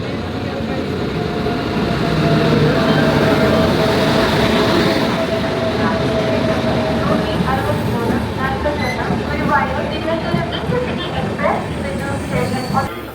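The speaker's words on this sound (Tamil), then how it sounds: "நம்மளோட ட்ரெயின் தாங்க பிளாட்ஃபார்ம் 1ல் அரைவ் ஆகிட்டுருக்கு." A train rumbles into a station platform, a steady low roar with rising clatter, while people talk nearby over the noise.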